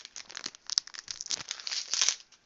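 Crinkly foil wrapper of a Weiss Schwarz trading card booster pack is torn and crumpled open up close, a continuous run of sharp crackles and rustles with no talking.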